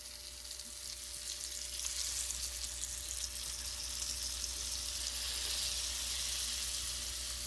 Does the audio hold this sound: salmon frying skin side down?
yes